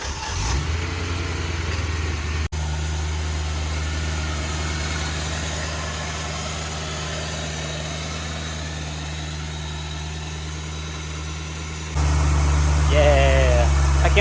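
A BMW E92 M3 just back from rod bearing and valve cover gasket work idles steadily after its first start, a loud, even low rumble that holds close and constant, then steps up slightly louder near the end.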